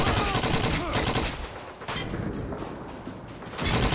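Rapid machine gun bursts rattle loudly in the World War II video game Call of Duty 2, with dense overlapping gunfire and explosions filling the battle scene.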